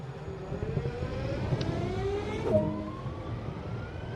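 A diesel-electric SD70 locomotive idles in the Train Sim World 2 game, a steady low engine rumble with rising and falling tonal whine, close and continuous with a brief click partway through.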